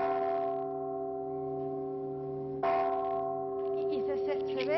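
A cathedral bell with a newly replaced leather strap, rung by pulling its rope, sounds two strong strikes followed by long, sustained ringing tones that hum and beat as they fade.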